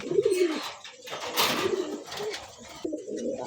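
Pigeon cooing in a bird market, close and fairly loud, repeating in low throaty phrases over steady background chatter and crowd noise.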